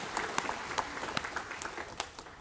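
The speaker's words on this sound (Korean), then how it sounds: "영광의 박수 하나님께 드리겠습니다." A church congregation claps during a worship service, scattered hand claps rising and falling at a moderate distance, fairly soft and thin rather than a full roar.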